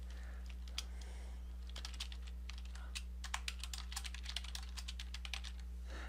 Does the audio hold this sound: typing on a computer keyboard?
yes